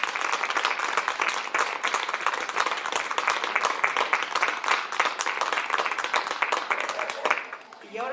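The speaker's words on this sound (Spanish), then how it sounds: "Ahora un aplauso, por favor." Sustained applause from a crowd gathered at an outdoor ceremony for planting a holm oak, dense and steady clapping that fades out near the end.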